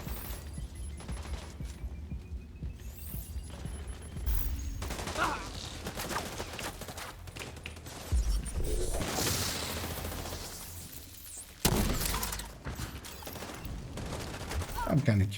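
Rapid automatic fire from a turret in a first-person shooter, bursts rattling through a busy battle mix with heavier booms, sustained throughout with no pauses, under a player's commentary.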